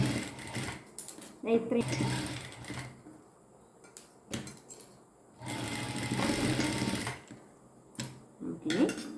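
A sewing machine stitches a child's blouse in short bursts of rapid mechanical whirring separated by pauses, close and clear, while someone talks between and over the runs.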